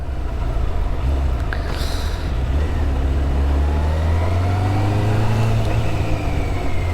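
Motorcycle engine droning steadily while riding through a Belgian city in cold weather, a loud continuous hum with pitch rising and falling as the rider shifts gears.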